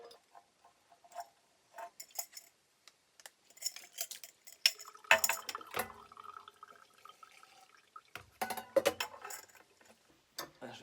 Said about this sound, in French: là je stérilise mon pot en mettant de l'eau bouillante dedans